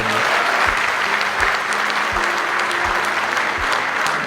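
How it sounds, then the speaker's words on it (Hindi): Strong, continuous applause from an audience at a Congress minority department event marking Maulana Abul Kalam Azad's birth anniversary, a dense steady roar of clapping with low rhythmic thumps and a brief spoken word. "मुझे लगता है कि एक और जोर की ताली बजनी चाहिए अशोक जी के लिए।"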